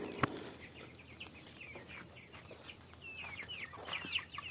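Broiler chickens cluck and chirp softly in short bursts at a distance as their feed arrives, with a sharp knock near the start and quiet background ambience.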